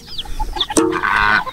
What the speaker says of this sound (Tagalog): Ayan din mga manok